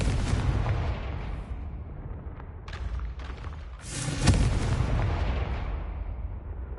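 Confringo blasting spell exploding in the Hogwarts Legacy video game: a heavy booming blast with crackling debris, preceded by rumbling battle noise and sharp pops, loud and close.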